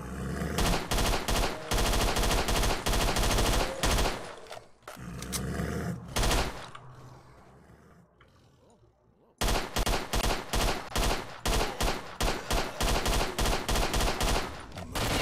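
Rapid automatic gunfire from the player's weapon in S.T.A.L.K.E.R.: Shadow of Chernobyl rattles loud and close in dense bursts, pausing for a few seconds of quieter ambience before resuming in sustained volleys.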